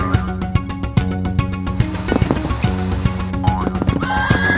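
Cartoon horses whinny amid a busy, rhythmic musical backdrop with repeated percussive hits, the neighs rising high near the end.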